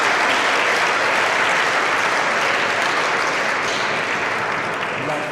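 Spectators at a Calgary Challenger tennis tournament give loud, sustained applause. The thick, even clapping fills the whole stretch and eases off only slightly near the end.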